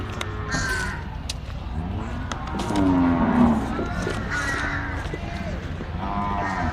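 Cattle moo among crow-like calls at a cattle and buffalo market. A drawn-out low bellow stands out midway over a busy outdoor background with voices.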